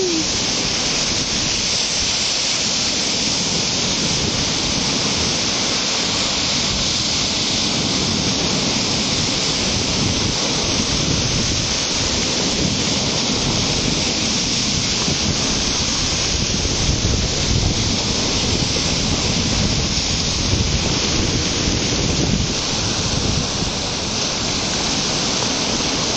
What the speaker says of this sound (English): Just another quick look at the waves and the water and the beach